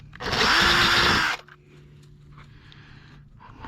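A power drill whines loudly at high speed for about a second while boring into a broken bolt in a cylinder head, then stops abruptly, followed by faint clicks and handling noises.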